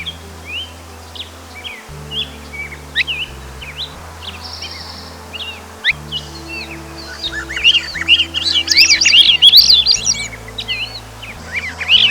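Birdsong on an evening hike up a hill on Vancouver Island, including a Swainson's thrush: many chirps and whistled phrases at close to moderate range, growing denser and louder toward the end, over a low steady hum.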